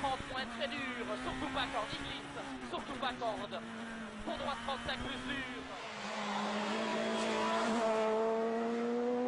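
A Peugeot 207 rally car on a tarmac stage of the 2011 IRC Mecsek Rally in Hungary, its engine droning and shifting pitch as it runs, with a commentator talking over it throughout.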